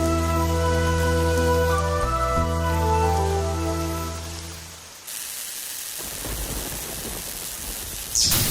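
Steady rain falls in a Hindi-dubbed film scene, entering as a dense, even hiss midway through after a stretch of sustained tonal sound, and continuing loud to the end.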